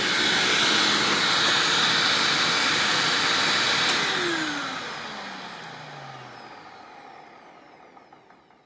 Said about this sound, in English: This is definitely proof that the old style Maytag motor will work in a newer TTI style Hoover.